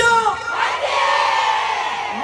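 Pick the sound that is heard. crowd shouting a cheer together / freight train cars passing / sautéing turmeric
crowd shouting a cheer together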